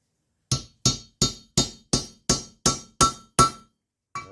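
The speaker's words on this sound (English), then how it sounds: "So then you can tap it in with the hammer and not damage your actual seal." A hammer taps a valve seal into place on a Honda Accord engine: nine evenly spaced sharp metallic knocks about a third of a second apart, then one more after a pause, close and loud with no talking.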